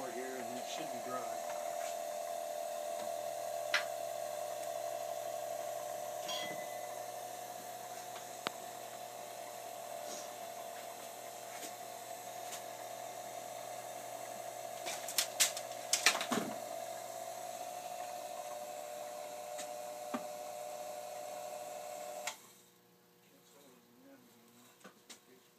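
A Formula D (DASHI) cord wrapping machine runs at full throttle with its pedal strapped down, a steady droning whine with a few clicks, then cuts off near the end.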